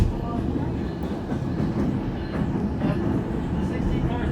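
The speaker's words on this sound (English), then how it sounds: "There's another train." A train passes on the Skagway railway, a low rumbling roll with faint rhythmic clatter, heard close by under a voice speaking over it.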